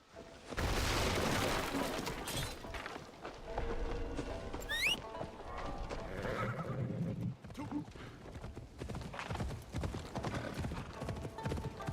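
Rapid hoofbeats of a galloping horse in the video game Fight School Simulator, with a whinny partway through, amid game-like rumbles and effects.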